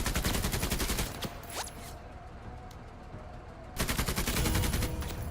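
Rapid automatic gunfire from a video game rattles loudly in a dense burst, drops away to quieter ambience for a few seconds, then returns as another sustained hail of shots.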